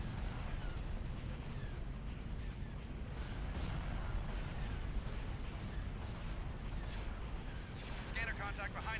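Hypervelocity cannon fire in a Star Wars space combat game, a dense, continuous rumbling barrage of heavy blasts that stays loud throughout, with a brief burst of faint voice near the end.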